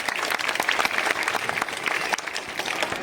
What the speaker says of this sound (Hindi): तो इसी की बच्चों के लिए एक जोरदार ताली बजाएंगे सभी बच्चे।